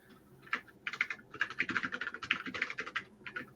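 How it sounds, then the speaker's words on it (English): Rapid, uneven keystrokes on a computer keyboard clatter in bursts, close and clear, with brief pauses between runs of typing and no voices. "I'm going to come here and type in here"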